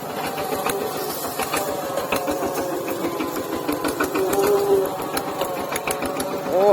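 Tractor engine running with a fast, steady chugging knock and a mechanical rattle, fairly close and loud. Voices talk and shout briefly over it.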